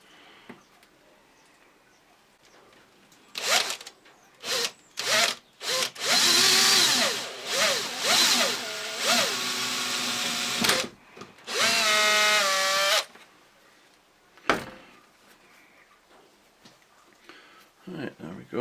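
Several short bursts of a power drill boring a hole while making an axe sheath, the motor whining and rising in pitch as it spins up, separated by pauses and a few knocks.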